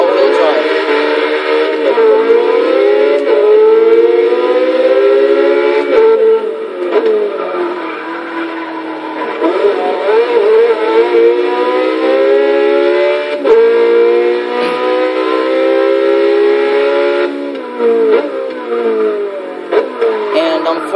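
An all-wheel-drive Porsche 918 Spyder in the racing game Forza Motorsport 6 howls at high revs, its loud, sustained engine tone climbing and dropping through repeated gear shifts across the whole stretch.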